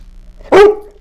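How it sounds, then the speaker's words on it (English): A service dog lets out a single loud, close bark, a sharp burst with a bright tonal tail, standing out from a quiet room. "this is my co-host and service dog, Marquis"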